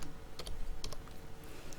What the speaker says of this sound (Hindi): तो यहाँ पे टाइप करना जस्ट